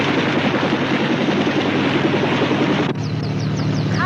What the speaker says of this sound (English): The Army is rushing 2 doctors to Las Vegas by way of helicopter.